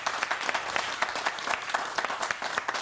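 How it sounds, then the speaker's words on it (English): A studio audience applauds steadily, dense clapping filling the room at close range with no talk over it. "Why do they always applaud more for the guests than they applaud for me?"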